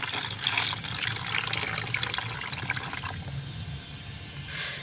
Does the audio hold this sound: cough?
no